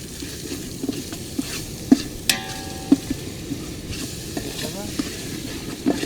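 Onions fry in a pan for chicken curry at a night beach campsite, a steady low crackling sizzle broken by scattered clicks and a few sharp clanks, with faint outdoor background.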